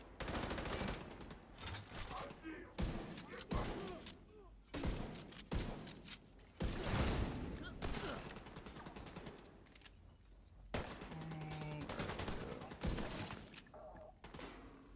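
Rapid bursts of gunfire in The Division 2, dense clusters of loud shots and automatic fire spread throughout, with brief pauses and some quiet talk between volleys.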